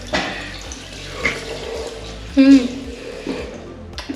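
Water splashes and trickles from a spout at a public fountain near a church in Arethousa, Ikaria, Greece, a soft steady stream with a louder gush midway, while a person talks nearby.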